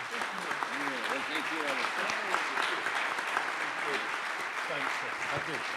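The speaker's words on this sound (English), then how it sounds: "A round of applause, please." Audience applause for a conference panel, a steady dense wash of clapping mixed with overlapping voices and chatter throughout.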